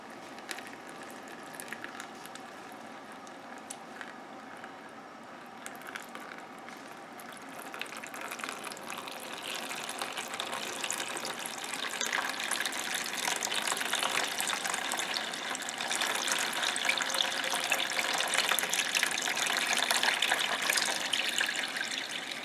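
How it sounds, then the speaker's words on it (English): Warm saturated soda ash solution, about 110 to 120 degrees, is poured steadily over ice for ice-dye tie-dye, a continuous splashing trickle that grows gradually louder and fuller over time with no talking. "I've made up a saturated soda ash solution, about 2 tablespoons in a container. It's at about 110, 120 degrees, and I'm just going to pour it over."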